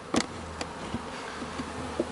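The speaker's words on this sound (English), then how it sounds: "So I had the bees in this deep on those 4 frames." Honeybees buzzing around a beehive escape board on a deep hive box, a faint, low hum with a few brief, closer buzzes and soft taps passing by.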